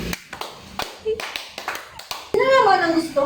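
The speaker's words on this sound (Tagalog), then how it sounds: "Bigyan natin ng 5 palakpak si Bibat." A classroom of children claps a set of sharp, spaced handclaps for a classmate during a Filipino lesson, then a voice speaks loudly right after.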